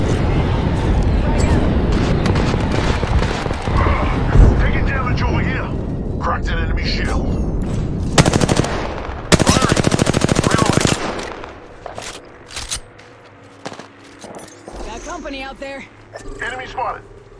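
Rapid automatic gunfire and bursts of shots in the battle royale game Apex Legends, loud and dense at first, then thinning into scattered shots and effects while a player talks over it.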